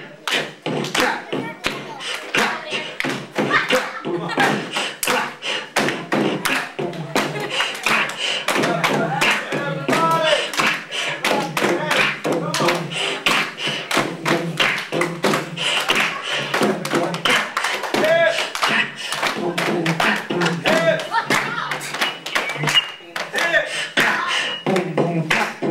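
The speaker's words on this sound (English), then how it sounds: "Keep that clap going." Children clap their hands together in a steady rhythmic beat during a hip hop lesson, sharp close slaps repeating evenly throughout while voices chant and talk over the claps.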